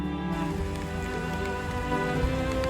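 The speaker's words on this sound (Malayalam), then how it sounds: "പെട്ടെന്ന് തന്നെ മഴ പെയ്തു തുടങ്ങി. കാറ്റിൽ മഴ പെയ്യുന്നത് കാണാൻ നല്ല ഭംഗിയാണ്." Wind-driven rain falls steadily over the Anakulam wildlife area in Kerala, an even, dense hiss at moderate level with no voices.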